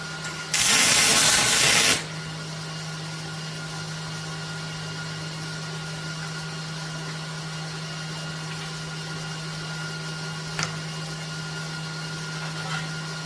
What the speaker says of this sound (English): Okay, we got our wings welded on.